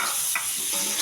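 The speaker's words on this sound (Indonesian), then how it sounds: "Masukkan sambal, tunggu sampai matang, lalu masukkan tomat" Sambal and tomato frying in a pan, a brief burst of dense hissing sizzle with a light scrape of stirring, close and steady.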